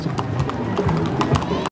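Horse hooves clip-clop in a brisk, uneven rhythm on pavement in a rodeo parade, close by, with crowd chatter mixed in.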